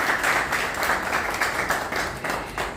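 A crowd at a fragrance launch ceremony claps steadily, a dense patter of applause holding at an even level throughout.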